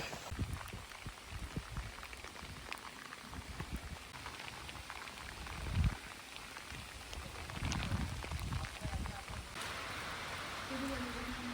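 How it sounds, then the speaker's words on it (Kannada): Heavy rain pours down on a hillside trek at Shivagange, a steady broadband wash of drops with scattered louder splashes and a brief thump near the middle, no voices. "ಫುಲ್ ಮಳೆ ಬಂದಿದೆ ಲೆನ್ಸ್ ಮೇಲೆಲ್ಲ ನೀರು ಕುತ್ಕೋತಾ ಇದೆ"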